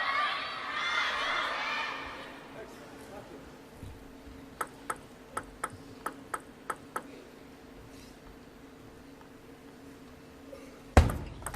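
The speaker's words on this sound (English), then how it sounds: "the crowd now getting more and more vocal." Crowd cheers and shouts swell at a WTT China Smash 2025 men's singles table tennis match, then give way to a quieter hall where a ball ticks rhythmically in a short run, with commentary talk underneath.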